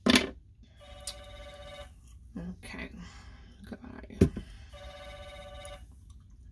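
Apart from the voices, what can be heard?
telephone ringing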